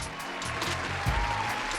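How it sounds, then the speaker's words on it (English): A round of applause, even continuous clapping heard throughout the short stretch at moderate loudness, with a brief low thump near the middle. "Give him a round of applause."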